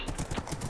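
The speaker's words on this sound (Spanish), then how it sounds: "¡Corre, so caballo, corre!" A horse gallops in the Minecraft video game, its hooves beating a fast, steady clip-clop rhythm, loud and close with no talking.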